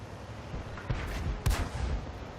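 Tank cannon fire in World of Tanks, with a Covenanter shooting during a Matilda IV battle: two heavy booming shots about half a second apart, then a louder blast, each with a short rumbling tail over steady background noise.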